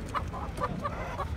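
Chickens cluck in a quick, repeated run of short calls at an outdoor poultry market in Taşköprü, Kastamonu, close and busy against crowd noise.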